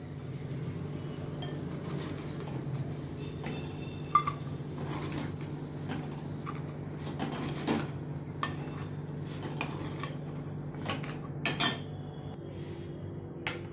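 Utensils clink and scrape against a pan and dish while serving dal, with a low background hum and a few sharper metallic taps.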